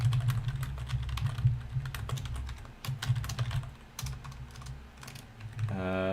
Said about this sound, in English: I'm typing to him.